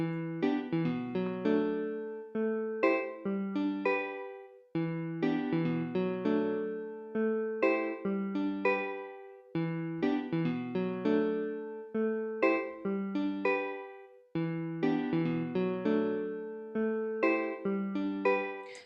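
A nylon-string Spanish guitar plugin in FL Studio plays a simple repeating plucked rhythm pattern for an Afrobeat track, steady and clean, with no voices.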